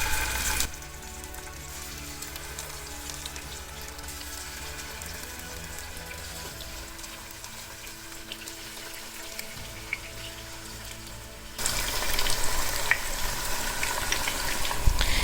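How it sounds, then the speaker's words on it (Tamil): Chicken drumsticks deep-frying in hot oil, a soft continuous bubbling hiss that holds steady, then grows louder and brighter for the last few seconds. "இதில் நம்ம சிக்கனை ஃப்ரை பண்ணி எடுக்க போகிறோம்"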